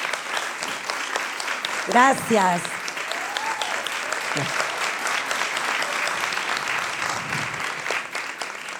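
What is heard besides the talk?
audience applause for a theatre teacher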